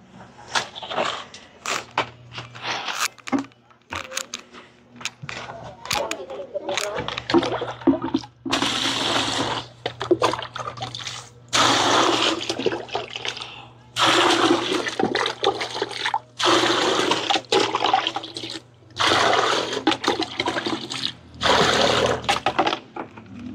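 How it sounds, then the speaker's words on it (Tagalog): Water gushes and splashes into a washing machine tub for rinsing in repeated bursts, with brief pauses and some clunks between pours. "maglagay na tayo ng tubig dito sa dito sa washing machine kasi babanlawan na natin"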